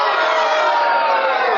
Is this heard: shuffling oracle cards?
no